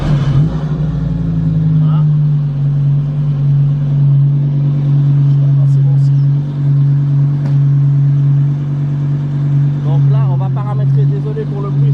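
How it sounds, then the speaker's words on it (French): A Lamborghini engine fires up and settles into a loud, steady, deep rumbling idle with a sharp start burst at the beginning, running continuously and close throughout, with brief rev swells near the end. "Désolé pour le bruit, ça fait énormément de bruit cette voiture."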